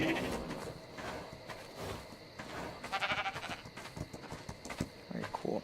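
Ovis sheep from the video game Ark: Crystal Isles bleating several times, short wavering cries at moderate distance over scattered background noise, with a voice speaking faintly at times.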